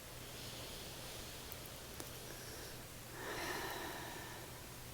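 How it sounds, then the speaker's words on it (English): A single slow, deep breath drawn in during a quiet morning meditation, a soft airy inhale swelling near the end over faint room hum. "Take a deep breath here."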